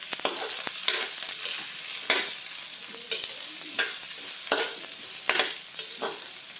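Onions sizzling in a hot pan while being stirred, with repeated scraping strokes of a utensil cutting through a bright continuous crackle, close and alone.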